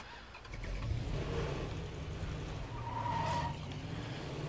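In the video game State of Decay 2, a car engine starts and the vehicle drives off, with a low engine rumble and rising revs at moderate volume.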